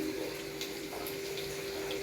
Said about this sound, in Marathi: 1 तांब्या छोटासा पाणी घालून घेणार आहे।